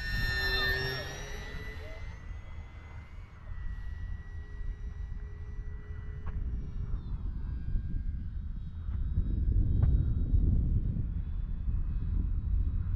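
An FMS Cessna 182 Skylane RC plane flying past with flaps down, its electric motor whining high at first, then fading into a steady distant drone over wind noise, with a voice talking.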